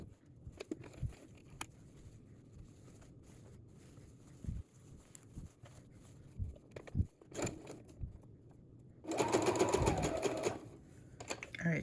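A sewing machine basting a jumpsuit mockup, a short loud burst of rapid mechanical stitching near the end, preceded by scattered handling knocks and quiet background.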